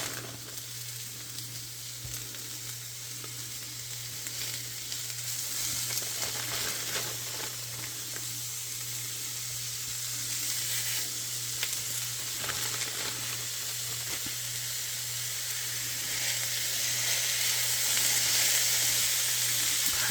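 Sirloin steak pieces and translucent onions fry together in a pan, producing a continuous, close, bright sizzle that holds steady and grows slightly louder over twenty seconds, with a low electrical hum beneath.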